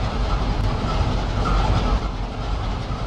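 Grain train in a train simulation game pulling out of a rail yard, a steady, dense rolling rumble with faint clickety-clack throughout, loud and unbroken, with no speech.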